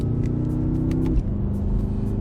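BMW M6 Gran Coupe engine pulls hard under acceleration with a brief dip at a sport-mode gear change, then the steady close growl resumes.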